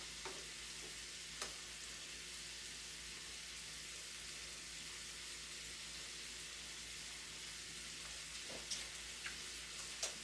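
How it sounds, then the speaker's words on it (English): Chopped onion stir-fried in a pan for potato and bacon soup, a steady quiet sizzle with a few faint clicks of a utensil, no one talking. "we're just going to stir fry that until it becomes nice and brown"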